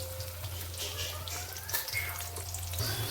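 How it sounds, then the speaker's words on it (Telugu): Onion fries in hot oil with cumin seeds in a pan, giving a soft, steady sizzle over a low background hum at close range. "జీలకర్ర ఇలా వేగినాక ఆనియన్ వేసుకోవాలి."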